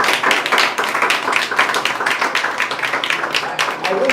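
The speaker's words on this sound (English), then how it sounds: "Let's clap for these children." An audience at a free craft training hub claps for children, dense overlapping hand claps forming a lively, close, steady patter that stays strong throughout.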